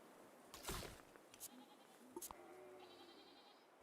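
Sheep bleating in the Civilization strategy game, a short quiet bleat near the start followed by a few fainter tonal calls against a soft, noisy game backdrop, with no talking.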